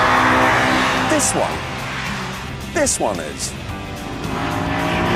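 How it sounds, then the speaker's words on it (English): Honda S2000 with a 2-litre VTEC engine running, a steady broad engine roar with brief rising rev sweeps, heard up close under a voice. "The 2-litre VTEC engine in this is astonishing"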